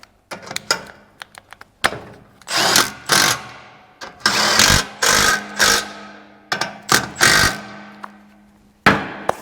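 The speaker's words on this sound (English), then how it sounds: "I'll just bolt it up nice and snug" An impact or power tool runs in short repeated bursts, snugging nuts onto studs as a Nissan differential is bolted into a Toyota, interspersed with sharp metallic clanks and taps, loud and close.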